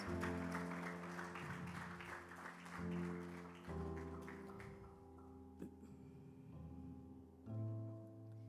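Church congregation applauding, a steady wash of clapping that runs throughout beneath organ or keyboard chords and sustained music, with a few louder swells.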